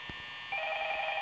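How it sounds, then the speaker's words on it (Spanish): A desk telephone rings in the Five Nights at Freddy's video game, a steady electronic double-tone ring that starts halfway through and holds loud and continuous, with faint low thumps before it. "Está el teléfono, está llamando mamá."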